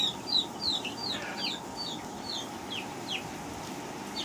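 Chicks cheep in quick, high, repeated peeps over a low steady background hum in a dimmed poultry shed during vaccination, close by and fairly soft.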